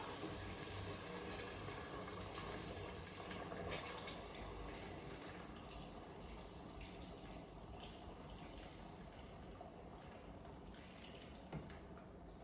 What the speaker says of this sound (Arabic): هسه اخلي مي حار طبعا.